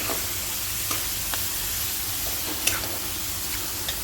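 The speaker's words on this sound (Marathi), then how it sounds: "कांदा टाकून मस्त कांदा पण एकदम छान असा परतून घ्यायचा आहे तेल सुकेपर्यंत" Chopped onion sautéing in hot oil in a pan while cooking an egg curry, giving a steady close sizzle with a few light clinks and stirring scrapes throughout.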